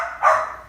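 A dog gives one short, fairly close bark that rises and fades within a moment, with no talking around it.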